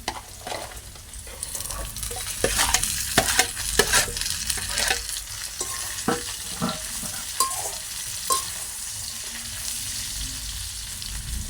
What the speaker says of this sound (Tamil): இப்போ நாங்கள் இதுக்கு பொரிஞ்செடுத்த மிரக்கறி எல்லாத்தையும் சேர்த்து போடுவோம்